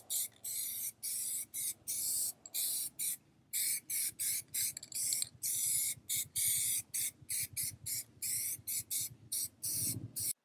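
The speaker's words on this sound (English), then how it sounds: "I'm ready to apply our graphite metallizer now as our top coat" Short bursts of aerosol spray from a can of PlastiDip graphite metallizer applied as a top coat to car wheels, hissing repeatedly in quick on-off puffs with brief gaps, close and steady, no talking.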